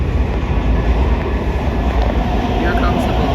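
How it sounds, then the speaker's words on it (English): A metro train arrives at an airport station, its steady loud rumble and rush filling the platform with no break. "All right, everybody, here comes the train."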